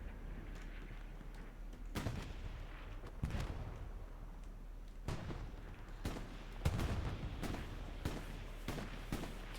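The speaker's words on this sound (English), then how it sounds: "I think he's just shelling this area." Video game artillery shelling, a series of sharp blasts at irregular intervals, about ten impacts, moderately faint with low rumbling between them and no talking.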